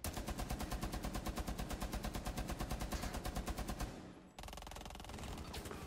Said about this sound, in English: Maze, I need to hear that light machine gun going up.